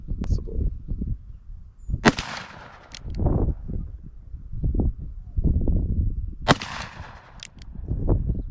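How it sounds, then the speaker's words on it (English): A Colt Trooper MK III revolver is fired single action at 25 yards on a range, with two loud, sharp gunshots several seconds apart, close by, over low rumbling background noise. "I'm going to be firing these single action because I'm trying to get as much accuracy out of this as possible"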